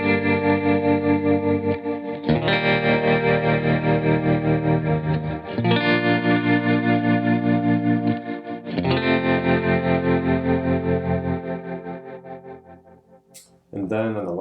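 Electric guitar raking a 6-4-1-5 chord progression through effects with distortion, chorus and echo, heard as four sustained strummed chords, each swept across the strings while avoiding the high E, loud and close, fading at the end.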